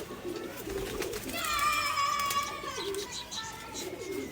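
A pair of young Kaldom Madrasi pigeons giving soft, continuous cooing and squeaky calls close by, with a clearer tonal call rising in the middle over a steady background hiss.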